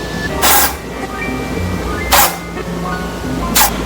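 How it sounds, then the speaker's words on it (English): Three short hissing spray bursts onto hair roots, close and fairly loud, spaced a second or two apart with quieter rustling between. "I'm gonna spray it on my roots."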